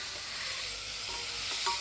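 Mutton pieces stir and sizzle in a hot pan for a Bengali curry, a steady soft frying hiss with faint scraping as the meat is mixed; no talking.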